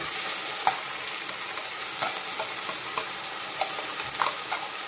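Onion and garlic frying in oil in a pan for a beef stew, a steady bright sizzle with occasional light stirring taps, close and fairly loud.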